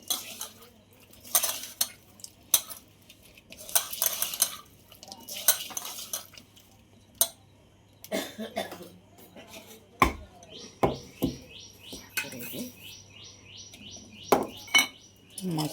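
A spoon clinks and scrapes against a dish while fish masala is mixed, sharp metallic taps and stirring scrapes coming in bursts, close and fairly loud, with birds chirping faintly in the background and a brief voice.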